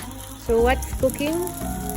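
Beef sizzles and fries in a pan with a steady hiss, while a voice talks over it from close by.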